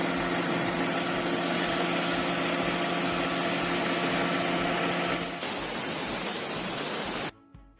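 Warm Mercedes C180 Kompressor idling with an oxygen-sensor fault (P0131) that fails its emissions inspection: a steady, dense mechanical hum with hiss, constant throughout before cutting off abruptly near the end.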